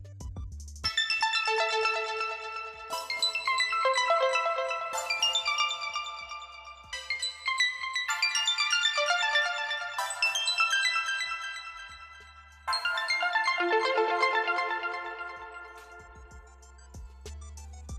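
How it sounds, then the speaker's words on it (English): A bright synthesizer arpeggio cycles through fast repeating note patterns, shifting chords every couple of seconds over a low bass pulse, with no voices. "So that's one arpeggiator going, one pattern."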